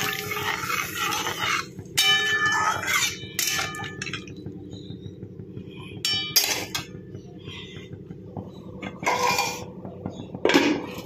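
A metal lid is set onto a cooking pot of simmering potatoes and vegetables, giving bright ringing clinks and clatters in several bursts over a steady low hum.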